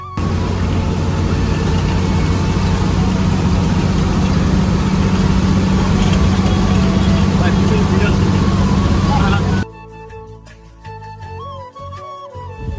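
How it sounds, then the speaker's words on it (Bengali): A bus engine drones loudly and steadily from inside the bus on a highway near Postogola Bridge, then the noise drops away abruptly and quieter sounds follow. "একটু বাসের ইঞ্জিন নয়েজ শোনাই।"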